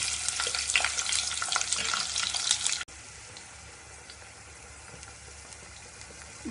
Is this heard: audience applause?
no